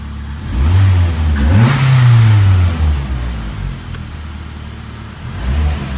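Ford Focus engine fitted with a homemade cold air intake built from OEM parts, revving briefly and settling back toward idle with a rough, grumbling mid-range tone, loud and steady with no talk.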